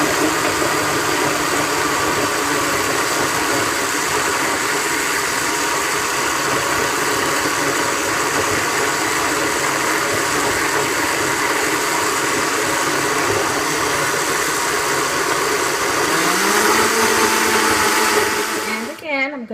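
A blender whirs continuously and loudly for nearly twenty seconds, mixing a red chile mole sauce with flour, its motor pitch shifting slightly before it cuts off.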